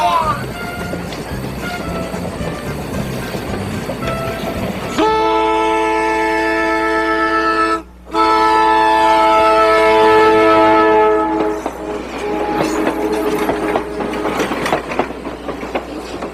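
A train rumbles through a tunnel with a long sustained horn blast and rattling wheels, loud and close. The horn breaks off briefly and then resumes before the clatter of the cars takes over.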